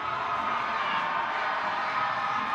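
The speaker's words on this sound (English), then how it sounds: "The fans are going to cheer every touch now with time running out for the Walter Sisulu University" Fans at a university football match between UWC and Walter Sisulu University raise a steady, dense crowd roar of cheering and shouting, constant and unbroken throughout.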